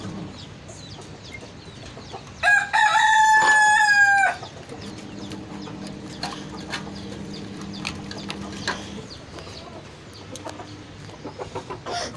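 Backyard chickens cluck steadily while a rooster lets out one loud, close crow partway through, with softer clucking and farmyard rustle continuing afterward.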